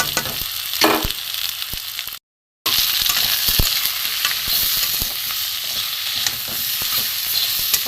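Spices stirred and frying in oil in a pan for a light bata fish curry with potato and pointed gourd, a close, steady sizzle with scraping stir strokes and a brief silent gap partway through.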